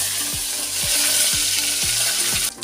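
Onion frying in oil with mustard seeds, fenugreek and curry leaves for sambar, a steady close sizzle and crackle running throughout.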